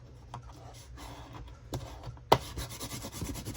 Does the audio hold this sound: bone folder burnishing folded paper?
yes